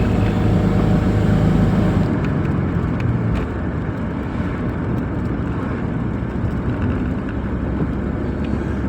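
A 4-litre straight-six engine running on LPG revs hard at around 3,500 rpm, a loud, dense, unbroken roar with a slight shift in tone partway through.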